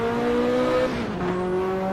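A Ferrari F40 in the Assetto Corsa racing game, circuit Autodromo di Pergusa, its engine note droning steadily and loud, with a pitch drop as it shifts gear partway through.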